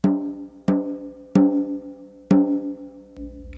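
Snare drum top skin tuned fairly high and slightly out of tune, struck four times at a slow, uneven pace, each hit ringing with a resonant tone that decays before the next, followed by a faint low thump at the end.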